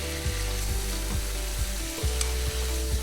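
Mussels and saffron stirred in a paella pan with prawns and squid, a steady sizzle running throughout with regular scraping stirs roughly every half second, close and alone with no talk.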